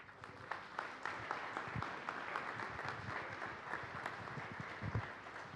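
An audience applauds to welcome a speaker at a public talk, steady, moderately loud clapping from many hands that continues evenly across the clip.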